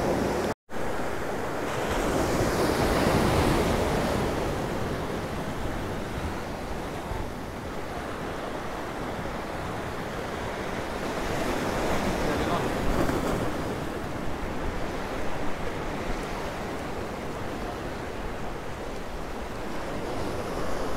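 Rough sea waves break on a small beach at Ciudad Jardín, Palma de Mallorca, on a windy day, giving a continuous loud roar of surf that swells and recedes while gusts buffet the microphone.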